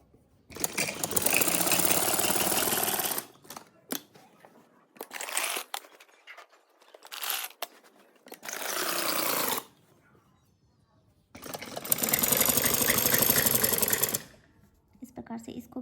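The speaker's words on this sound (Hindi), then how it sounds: "अब इसको यूँ इस प्रकार यहाँ पे सिलाई लगा लेंगे।" Sewing machine stitching a frock suit, running in several loud bursts of a few seconds each with short pauses between them, close by, with a little speech in the gaps.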